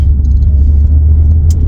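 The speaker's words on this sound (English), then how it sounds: "the engine sounds amazing" A Toyota Altezza engine fitted with a lightweight flywheel gives a deep, close, steady rumble with a strong low hum throughout and a few faint metallic ticks above it.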